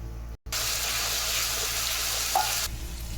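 Onion paste added to hot oil already seasoned with bay leaves, cumin and whole garam masala for an egg masala curry, giving a loud, steady sizzle that starts after a brief gap and runs for about two seconds before easing slightly.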